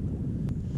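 Wind gusting across open water on the sea during a light-tackle fishing trip off the UK coast, a steady low rumbling buffet close on the microphone with no pauses.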